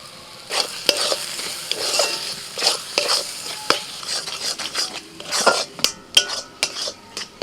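Green pea filling with salt, turmeric, cumin powder and sugar is stirred in a pan, producing repeated scraping and clinking of a utensil against metal in an irregular rhythm over a soft sizzle, close and clear, with no voices.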